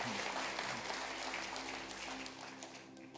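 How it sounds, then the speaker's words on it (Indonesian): A church congregation at a Sunday service claps together in steady, sustained applause, with a dense wash of hands filling the room while a low musical hum carries underneath. "Mari berikan tepuk tangannya lebih meriah lagi kepada Tuhan kita."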